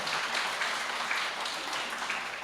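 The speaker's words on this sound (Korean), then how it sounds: "유치부 선생님들 좀 우리 한 박수 한번" A church congregation claps for the kindergarten Sunday-school teachers, a soft, even spatter of applause heard at a distance for a couple of seconds.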